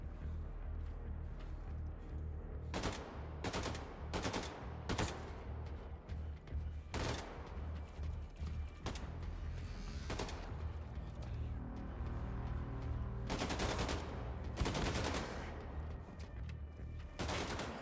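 Bursts of gunfire from a video game crack out in irregular volleys, some single shots and some rapid clusters, over a steady low background rumble, fairly loud and close.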